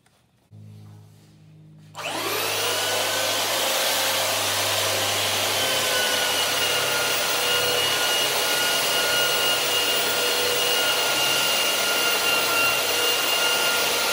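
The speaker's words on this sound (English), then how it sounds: "the belt sander. It sure does get hot as we go over this" A belt sander runs on a wooden boat mast being tapered, starting after a quiet lead-in and then holding a steady, loud, close abrasive roar for the rest of the stretch with no talking.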